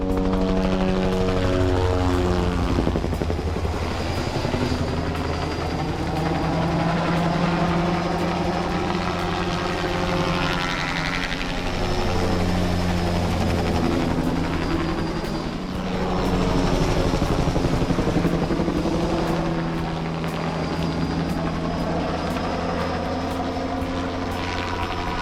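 A helicopter drones steadily overhead, its rotor thumping in a loud, continuous pulse that swells and fades slightly throughout.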